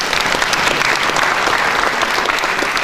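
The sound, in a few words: audience applause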